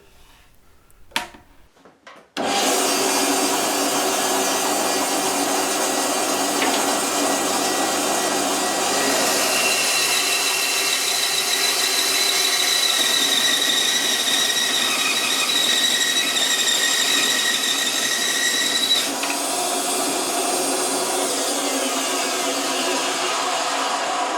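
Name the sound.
cutting excess wood off ES 335 guitar neck heel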